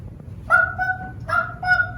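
A voice imitates a bird, giving three honking, goose-like squawks in a row, close and fairly loud over a faint background.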